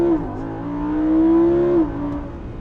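Lamborghini Huracan Spyder, set to Corsa mode with stability control off, doing a launch-control start at about 4,500 rpm: a loud, steady engine roar holds and then swells briefly before easing off, with no talk over it.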